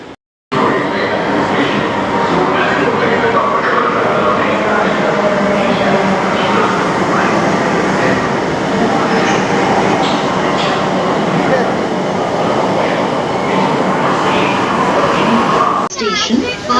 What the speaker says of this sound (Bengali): ওইদিকে একটা মেট্রো যাচ্ছে